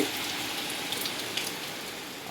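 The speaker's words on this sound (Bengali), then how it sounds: "বাইরে প্রচুর বৃষ্টি শুরু হয়েছে মানে মুসলধারে বৃষ্টি" Steady rainfall hisses softly and evenly, a continuous wash of drops on a surface with no voices.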